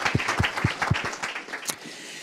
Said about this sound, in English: So let's all give Dave a cheer for knowing what risks to take.